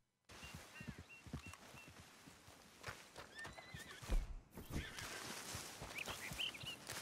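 A horse whinnies several times over steady hoof clip-clops in the video game Red Dead Redemption 2, with faint birdsong in the background and no speech.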